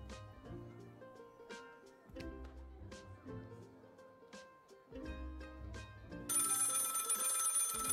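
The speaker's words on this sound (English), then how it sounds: "The phone is ringing." A telephone rings in a video game, with its bell starting near the end over a looping melodic music bed made of rhythmic plucked notes. Nobody speaks.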